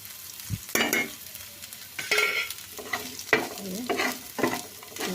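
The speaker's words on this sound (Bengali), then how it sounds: "কিছু নাড়াচাড়া করে ভেজে নেব।" Utensil scraping and stirring through food in a pan, in repeated strokes over a steady frying sizzle with black cumin added, close and fairly loud.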